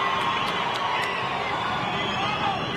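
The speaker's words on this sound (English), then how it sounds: "Hear the crowd reacting to Marco Rodriguez." A boxing crowd in Costa Rica roars during the final round, a steady, moderately loud babble of cheering voices with a few sharp accents near the start.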